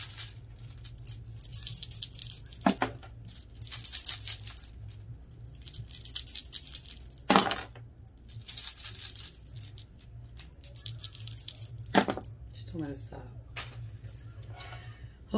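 Small spiritual dice are shaken and rolled in repeated bursts of rattling, clattering clicks that sound close and crisp, with a person talking between the rolls.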